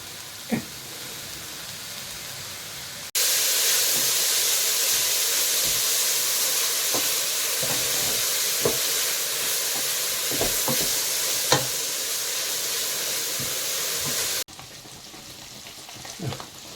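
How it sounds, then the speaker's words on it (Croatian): Ingredients for a military-style bean stew frying in a pot, a loud steady sizzle and hiss lasting about eleven seconds with occasional stirring knocks, quieter before and after. "ja ću ovo još pržiti, malo pojačati"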